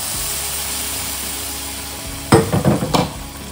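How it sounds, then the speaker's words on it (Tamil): Tempering of curry leaves poured into hot kuzhambu, a steady low frying hiss followed by a sudden burst of loud crackling sizzle in two close surges that quickly die down. "தாளிச்சு கொட்டிடலாம்."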